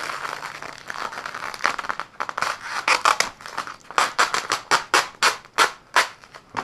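Vinyl roof wrap on a Subaru WRX being trimmed, a run of crisp snipping cuts that start scattered and become a quick, regular series of close, distinct clips, with no talk.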